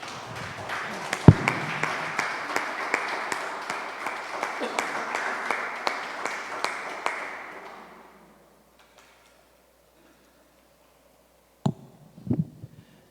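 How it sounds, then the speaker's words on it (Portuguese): A church congregation bursts into loud, sustained applause with sharp individual claps standing out. It fades out around eight seconds, followed by near silence and a couple of isolated knocks. "Vamos dar uma linda salva de palmas para Jesus."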